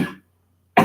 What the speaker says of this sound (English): I am dealing with a slight cough.